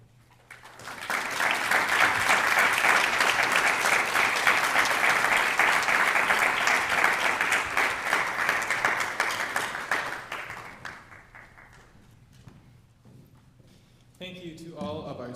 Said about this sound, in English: Can we give them all one more round of applause, please?